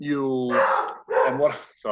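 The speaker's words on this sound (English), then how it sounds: "that's my dog." A dog barks indoors during an online stress and anxiety class, the short barks mixed in with a man's ongoing speech.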